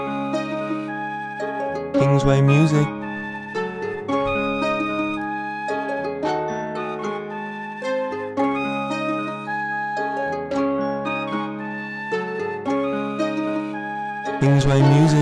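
Finished melody loop built in FL Studio, pitched down and layered with effects, playing steadily through repeated phrases with bright plucked tones and a low bass, loud and continuous, with a brief spoken tag near the start.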